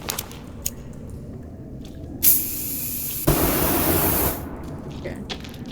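An aerosol spray can lit with a lighter works as a makeshift torch in the survival game The Forest, giving two long roaring hisses back to back, loud and close, with no talking.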